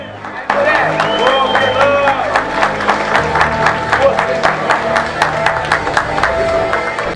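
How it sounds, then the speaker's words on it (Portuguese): Crowd applauds an athlete with a disability on a para jiu-jitsu podium, a burst of clapping and some cheering that starts abruptly and continues in regular sharp claps, with voices talking underneath. "Vocês vão observar que no final todo mundo vai aplaudir."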